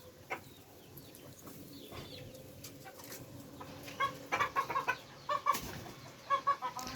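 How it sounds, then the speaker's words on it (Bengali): Chickens and roosters kept in a rooftop coop, soft scattered clucks and a run of louder, rhythmic clucking bursts toward the end, fairly close but quiet overall. "এর ভিতরে আমার 18টা মুরগি আর হচ্ছে 2টা মাত্র মোরগ"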